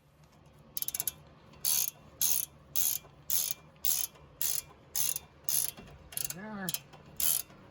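A ratchet tightens the rear strut nut on a Porsche Boxster 986 in a run of about ten sharp, evenly spaced clicking bursts. A short voice comes in near the end.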